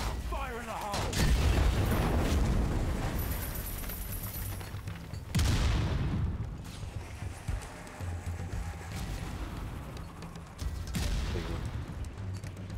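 A grenade explosion and gunfire in the video game Strange Brigade, several heavy booms and scattered shots amid a busy fight, with players talking over the action.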